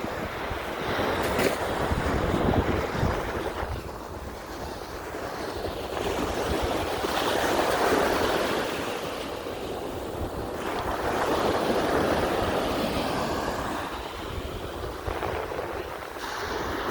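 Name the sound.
ocean waves breaking on the shore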